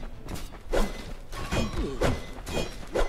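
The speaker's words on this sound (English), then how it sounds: "I will throw a few bombs down." Bombs go off in the video game Undermine as a string of heavy thumping blasts with rumbling debris, repeating roughly every half second over a steady game background.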